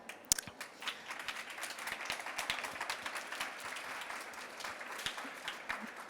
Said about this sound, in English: Please give a big round of applause for Thomas Hartwig from Leogant.